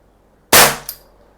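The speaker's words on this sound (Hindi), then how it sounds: "अब फायरिंग पे से डालेंगे, आपको चला के दिखाने वाले हैं, वॉच।" A SIG Sauer P320 CO2 .177 pellet air pistol fires a single close, loud shot, a sharp crack that decays quickly, followed a moment later by the softer clack of its blowback slide.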